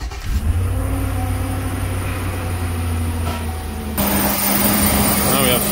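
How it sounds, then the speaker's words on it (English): A vehicle engine cranking and catching after a jump start from a NOCO GBX75 booster, a loud low engine rumble that shifts to a steadier running idle partway through. "Let's see if we can start the vehicle."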